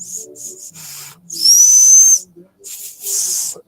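Small survival whistle from a Battlbox kit blown in short breathy bursts, mostly airy hiss with one brief thin shrill tone in the middle, loud and close.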